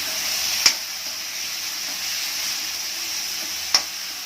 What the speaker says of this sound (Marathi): या कांद्याला आता दोन ते तीन मिनिट लागतील शिजायला